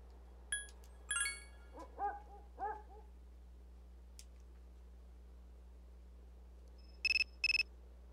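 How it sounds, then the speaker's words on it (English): A phone rings in the video game Persona 3 FES, two short electronic ring bursts near the end, preceded by scattered game chimes and blips over a quiet background hum. "And my phone's ringing."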